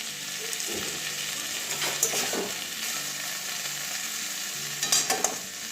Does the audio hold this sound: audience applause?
no